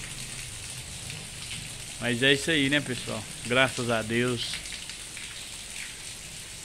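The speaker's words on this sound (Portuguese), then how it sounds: "Muita chuva, viu?" Steady rain hiss fills the background throughout, with someone talking briefly in the middle over it.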